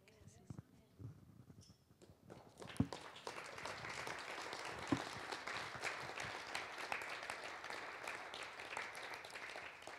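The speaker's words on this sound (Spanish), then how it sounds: "Gracias por sus aplausos." Church congregation bursts into applause after a sermon prayer, starting from a quieter moment with a few scattered claps and a voice, then swelling into dense, sustained clapping that fills the room and carries on to the end.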